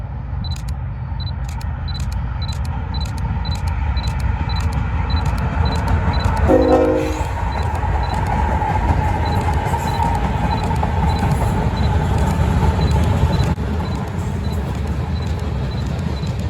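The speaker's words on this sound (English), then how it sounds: "Here is CN Veterans Locomotive 3015 leading a southbound grain train." CN Veterans heritage locomotive 3015 hauls a southbound grain train past at close range, a loud sustained rumble of engine and rolling cars, with a short horn blast midway and rapid camera shutter clicks throughout.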